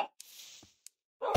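A Minecraft wolf in the video game gives a couple of short, clipped barks with pauses between them, and a louder sound comes in at the very end.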